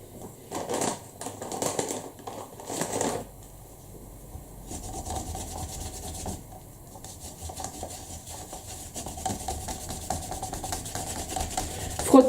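A Memento ink pad rubbed around the edges of a handmade Christmas card, giving dense scratchy dabbing and rubbing strokes in uneven bursts, close and moderately loud.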